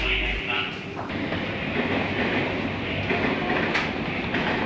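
A Tobu Urban Park Line express train pulls into the platform at Kasukabe station bound for Omiya, a steady rumble and rolling rail noise with faint clicks, with a voice speaking over it.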